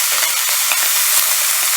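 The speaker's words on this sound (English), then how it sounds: "So we'll just go ahead and stir it up for a couple minutes and we're done." Kale and potatoes sizzle steadily in a hot pan for a moment, with a few soft scraping strokes of stirring cutting through the continuous close fry.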